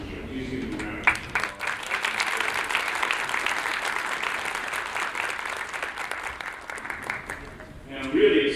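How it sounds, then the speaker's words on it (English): An audience at an academic scholars' day event claps for the organizing committee, a dense burst of applause lasting several seconds before fading as a voice returns at the end. "Please give them a round of applause."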